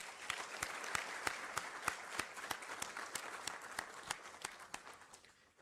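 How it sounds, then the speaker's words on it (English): Applause from a live audience at an institute event, with mixed crowd clapping overlaid by distinct sharp individual claps in a steady rhythm, holding fairly even at moderate level before easing slightly at the end. "why don't we just give ourselves a pat on our back and a big round of applause?"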